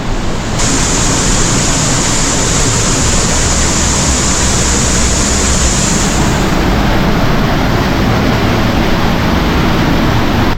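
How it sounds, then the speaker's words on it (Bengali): A waterfall near Dehradun rushes with a loud, steady roar that fills the whole clip, unbroken and close by. "কি জোরে ঝর্ণার জল পড়ছে"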